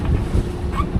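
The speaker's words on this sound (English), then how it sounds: "Motor sailing with a reefed Genoa." A sailboat motor-sails with its genoa reefed, heading out of a river into Tampa Bay, with steady engine drone, wind buffeting the microphone and water rushing along the hull, loud and continuous.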